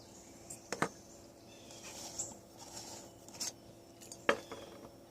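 An Esbit five-piece trekking cook set being handled, its metal pot and lid with a rubber ring giving a few sparse, quiet clinks and light scrapes against a faint room hum.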